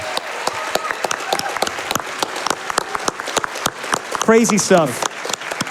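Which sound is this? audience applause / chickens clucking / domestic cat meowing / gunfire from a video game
audience applause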